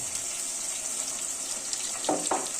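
Potatoes fry in a steady sizzle as an onion, garlic and ginger paste goes into the pan, with two short stirring scrapes near the end.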